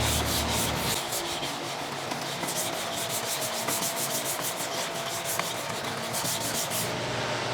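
Steady, continuous rubbing of sandpaper over body filler on a car panel, a dense scratchy hiss with rhythmic strokes running throughout, close and uninterrupted with no talking.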